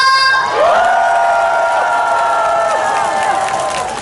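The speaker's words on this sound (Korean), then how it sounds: "생각하시면 다 같이 박수와 함성!" A large festival crowd at an outdoor National Foundation Day unification event raises a loud, sustained cheering shout, with applause mixed in. The roar holds steadily for a few seconds before easing slightly.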